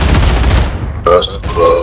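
A grenade blast in the Call of Duty MW3 multiplayer game, a dense loud burst of explosive noise with gunfire over the first half, then sharper game effect tones; a voice calls out near the end.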